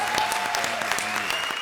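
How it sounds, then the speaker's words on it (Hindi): A studio audience at a television comedy show breaks into brisk, dense applause for under two seconds, with no talk over it. "जोरदार तालियां"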